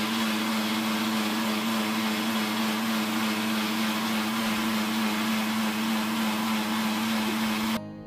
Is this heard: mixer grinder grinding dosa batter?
yes